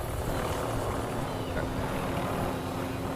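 A helicopter in the Warzone video game, its rotor and engine making a loud, steady, continuous drone that fills the whole moment, heard close up with no talk.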